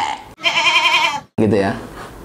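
Human voice imitating a goat bleat, "embe": two loud drawn-out nasal calls with a wavering tremolo, separated by a short silence, close to the listener.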